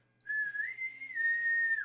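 A voice imitates a whistle with one steady, fairly loud whistled note lasting about a second and a half, mimicking the signal blown when an officer arrives on stage.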